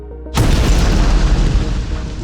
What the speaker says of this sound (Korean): 하늘을 향해 거의 폭탄이 터지는 소리나 다름없는 폭죽이 터졌습니다